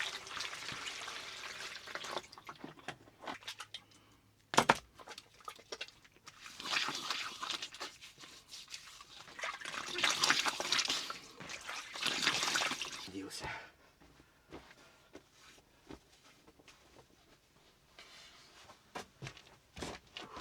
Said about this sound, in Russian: Чистой водой умоюсь.